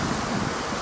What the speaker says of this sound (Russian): вот как волны набегают